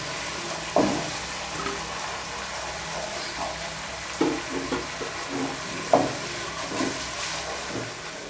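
Garam masala, salt, turmeric and crushed red chilli cook in a pan for mash dal. A soft continuous sizzle runs under several sharp spoon scrapes and knocks against the pan.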